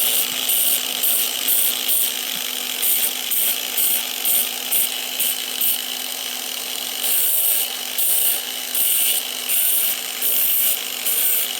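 A high, grinding whine of an angle grinder runs continuously, with rough rasping bursts as it cuts through burnt bread.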